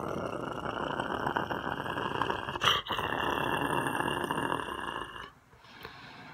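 A person imitates an animal growl with a long, rough, rattling tone. It is broken by a brief sharp catch midway and trails off near the end.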